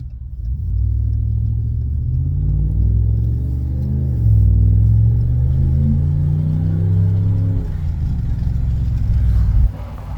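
A pickup truck's engine pulls away from a stop sign with a deep, loud, close rumble that rises in pitch as it accelerates through the gears, then settles before easing off.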